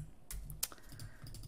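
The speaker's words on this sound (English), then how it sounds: "if I hold down Command Shift and V on my keyboard, it will paste and match the style" A Command-Shift-V shortcut pressed on a computer keyboard, heard as a few quick, sharp key clicks close to the microphone over quiet background hum.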